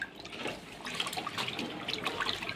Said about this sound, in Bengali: তারপর যদি গরম জলে এভাবে ধোয়া যায় আরও ভালো হবে